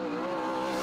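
Race car engines at Birch Run Speedway, a steady loud drone of motors at the track, sustained and close throughout with no pauses.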